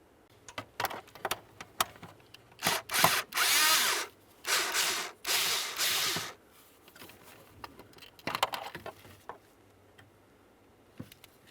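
A power tool spins out a 6mm mounting bolt on a 1999-2006 Chevrolet Silverado 1500 during HVAC mode door actuator work: several sustained whirring runs in the middle, with ratcheting clicks and handling noises before and after.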